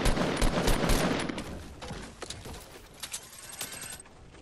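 Heavy Fortnite gunfire builds into dense rapid automatic bursts, fading into scattered single and clustered shots of varying distance with no talking.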